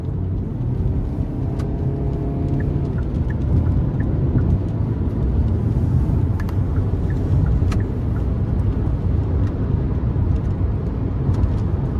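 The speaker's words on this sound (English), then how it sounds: "I'm just gonna give it a little bit of throttle" A 2023 Hyundai Santa Cruz SEL pickup accelerates onto an interstate under light throttle, its engine a steady, loud low drone with rushing road and wind noise and a few faint clicks, and no voices.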